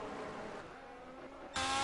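Race car engines drone in the distance at Monza in a racing video game, then a louder, brighter engine roar surges in near the end.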